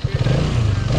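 Hero Karizma XMR 2024 motorcycle engine catching and settling into a steady, loud low rumble, with a brief rough burst at the start and continuous throbbing after.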